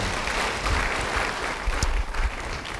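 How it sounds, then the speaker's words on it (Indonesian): A church congregation applauds a preacher's sermon, with dense, steady clapping from many hands that fills the room for a few seconds without a break. "Yang mengerti beri tepuk tangan bagi dia."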